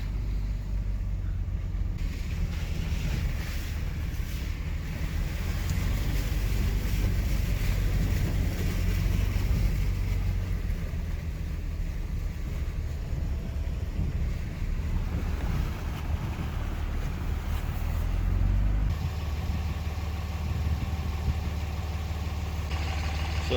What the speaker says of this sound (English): I'm literally driving through a lake.